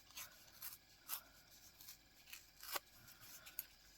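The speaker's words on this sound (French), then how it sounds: "Donc on va couper les coins, tout simplement." Scissors trimming the corners of a small art collage card, a series of crisp, quiet snips and rubs spaced irregularly, close up with no talking.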